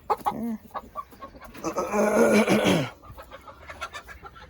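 Chicken clucking at a homestead: a loud run of close, throaty clucks and squawks builds to a dense burst mid-clip, then fades back to scattered sounds, with no talking.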